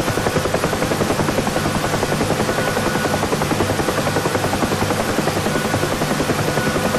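Bell UH-1 Huey helicopter in the DCS flight simulator descending on approach to land, its steady rotor thump and turbine whine loud and continuous throughout, with no talk.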